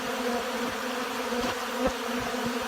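Honey bees swarming busily over hive feeders in a cold early spring, a steady dense close-up drone of many buzzing wings with occasional louder passes near the listener.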